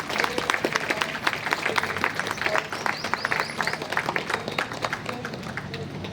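An audience at a religious festival event in Hyderabad breaks into sustained applause, dense clapping from many hands that stays steady and fairly loud throughout.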